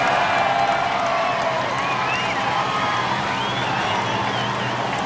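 A huge crowd of about 250,000 spectators cheers along the street at the Sydney Olympic triathlon in 2000, a dense, steady roar of voices and whoops that stays loud throughout without a break.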